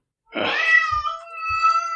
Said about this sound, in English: And the cat screaming too.